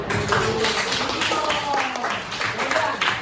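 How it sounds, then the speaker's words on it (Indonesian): Schoolchildren in a classroom clap their hands in loose, uneven bursts with rhythmic pulses, mixed with excited young voices and chatter close by. "Tepuk tangan dulu tangannya."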